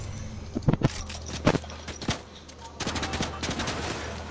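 Fortnite sniper rifle and weapon fire in a creative match, with a cluster of sharp gunshot cracks early on, then scattered shots and a burst of rapid firing near the end.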